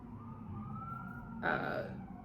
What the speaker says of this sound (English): Oh goodness, the sirens.